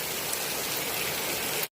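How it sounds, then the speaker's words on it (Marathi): Heavy rain pours steadily outdoors in a village of areca and coconut palms, a dense, even hiss with no voices that cuts off abruptly at the end. "बरा झाला पाऊस येलो तो."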